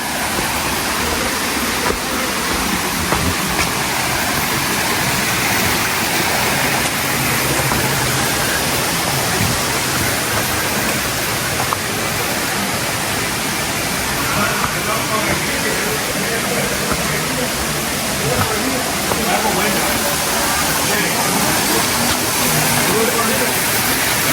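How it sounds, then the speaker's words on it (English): Yelapa waterfall near Puerto Vallarta, Mexico, roaring as water spills over, a loud, dense, constant rush heard up close with no break. "Oh, we got some nice water going over."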